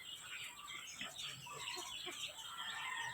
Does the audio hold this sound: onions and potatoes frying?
no